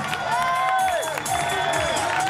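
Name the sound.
crowd applauding and cheering for a strongwoman contestant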